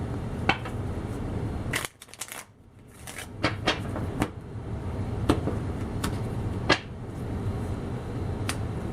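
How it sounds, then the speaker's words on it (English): Tarot cards shuffled by hand, heard close and quiet: crisp riffling and snapping bursts, with scattered sharp card taps and a brief pause in the middle. "Let me shuffle one more time."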